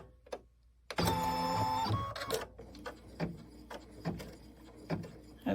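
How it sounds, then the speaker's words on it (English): An embroidery machine stitches out the batting placement on a mug rug: a sudden mechanical whirring burst, then a run of sharp, separate clicks and taps. "we're going to go ahead and stitch out the batting placement"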